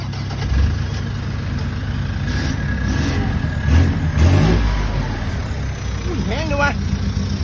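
A car at a used-car dealership rumbles with its engine running and revving in swells, heard close while people talk over it.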